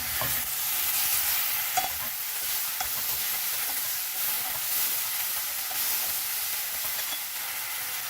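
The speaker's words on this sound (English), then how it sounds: "So after 2 minutes, I am just giving it a stir." Okra fries in a pan, a bright, even hiss and sizzle lasting throughout, with faint scrapes of stirring and light taps, and no voices.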